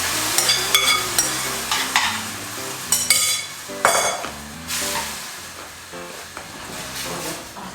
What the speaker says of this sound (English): If it's not sizzling, it's not hot enough